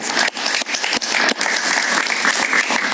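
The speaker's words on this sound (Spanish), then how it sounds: "Un aplauso para él" Studio audience at a Spanish-language evening talk show applauding a visiting guest, dense loud clapping that continues throughout.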